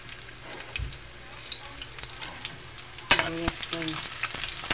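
Onion and garlic sautéing in hot oil, a soft close sizzle with occasional utensil clinks that turns louder partway through as stirring begins, while someone speaks briefly.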